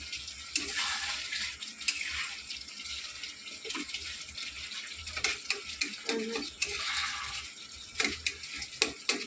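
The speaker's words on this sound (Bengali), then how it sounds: "মশলাও প্রায় হয়ে গেছে, আর একটু মশলা কষবে।" Masala frying in a pan while being stirred, a steady sizzle broken by repeated scraping and stirring strokes, close and moderately loud, with some watery bubbling underneath; nobody speaks.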